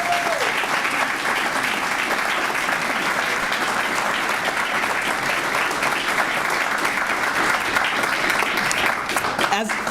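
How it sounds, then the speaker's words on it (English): Applause for a new mayor at a swearing-in ceremony: a dense, loud, sustained round of clapping from the audience that fills the whole stretch without a break. "one more round of applause for our new mayor"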